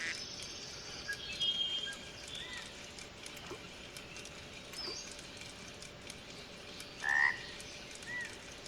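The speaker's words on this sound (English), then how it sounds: "A lot of frogs in this area." Frogs croak in a reedy fishing spot in the video game Professional Fishing 2, scattered calls over a steady bed of ambient insect and water noise, with one louder croak standing out near the end.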